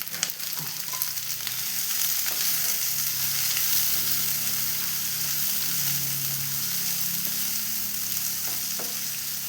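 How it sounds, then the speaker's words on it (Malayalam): Tomatoes and green chillies sizzle in hot oil with crushed ginger and garlic for a Kerala kadala curry. The frying hisses and crackles steadily and close by, with occasional stirring and no voices. "അപ്പം ഇനി തക്കാളിയും പച്ചമുളകും കൂടി ഇട്ടു"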